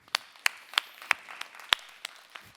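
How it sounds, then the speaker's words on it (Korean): A handful of separate, sparse hand claps ring out one after another at an uneven pace, faint and slightly distant, coming from a small church youth group. "박수 한번 주세요."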